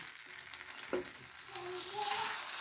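Paddu frying in a pan, a steady oily sizzle with scraping and tapping as the pieces are flipped, the sizzle growing louder toward the end.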